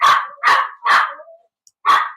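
Cavalier King Charles spaniels bark in four loud, close, sharp barks, three in quick succession and then one more after a short pause, with no voices.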